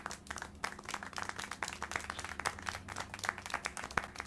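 Rapid, steady clapping from a crowd-like group in the video game Syberia: The World Before, fairly faint, with a low hum underneath.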